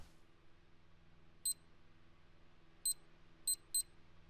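Four short electronic beeps from a home security alarm keypad arming in the video game INFRA, spaced irregularly over a quiet room hum, each bright and brief.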